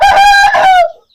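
An Aseel rooster of pure home-bred stock crows loudly and close by, one long drawn-out call that rises and then trails off into silence.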